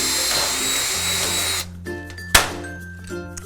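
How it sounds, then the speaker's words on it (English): A power drill whirs steadily while drilling out rivet holes in the front wall and door hinge of a metal Absco flat-roof aviary shed, then cuts off, leaving a sharp metallic clank and quieter shuffling. "Then drill out the other 2 and put rivets in them as well."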